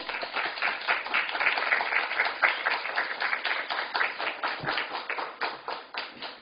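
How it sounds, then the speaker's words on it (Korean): A church congregation gives a missionary a vigorous welcoming round of applause, dense steady clapping from many hands filling the room, close and continuous, thinning slightly near the end, with no voices over it. "나올 때 박수로 우리 환영하도록 격한 박수로"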